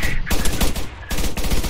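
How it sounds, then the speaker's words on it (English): Rapid bursts of automatic gunfire in a military video game, repeated volleys at close range, fairly loud and continuous across the clip. "They're getting shot from behind"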